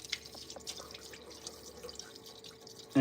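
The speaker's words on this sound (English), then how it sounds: "we're just gonna give it a rinse" Tap water trickles and drips softly while chicken wings are rinsed in a sink, a faint uneven splashing with no voices.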